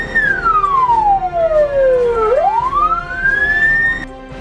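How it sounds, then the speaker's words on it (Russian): An ambulance siren wails loud and close, sweeping down in a long falling tone before rising sharply back up, with no speech. "Скорая спешит на помощь."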